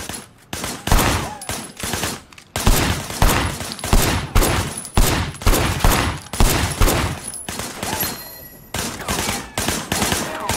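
Repeated gunfire from shooters behind a barricade rings out in loud, sharp bursts and fusillades, volley after volley with short gaps, in a Hong Kong action scene.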